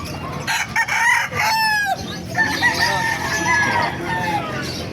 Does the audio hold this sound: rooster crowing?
yes